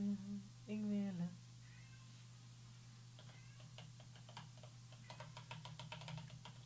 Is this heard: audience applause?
no